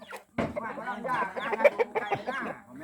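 Thai fighting-cock roosters at a temple farm camp give a string of short, warbling calls close by, with brief pauses between them.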